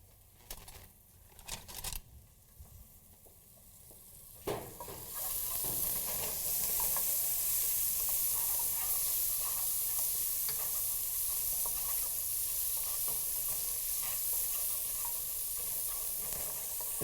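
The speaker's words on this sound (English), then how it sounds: "We want that to saute. We don't want that to brown up. We want that just to get a little translucent." Food, likely onions, sautéing in a pan with pepper before garlic is added, starting with a few clattering stirs then settling into a loud, steady, close sizzle that continues for the rest of the time.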